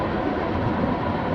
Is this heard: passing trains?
yes